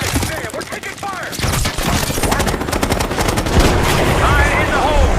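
Rapid bursts of gunfire and automatic weapon fire erupt in a Call of Duty Black Ops 6 cutscene battle, loud and continuous, with dense crackling shots throughout.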